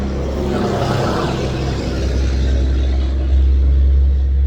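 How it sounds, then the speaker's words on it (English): A big truck drives past on a nearby road, a loud, steady low engine rumble and tire roar that swells and holds for several seconds with no talking. "That was a big truck that went by."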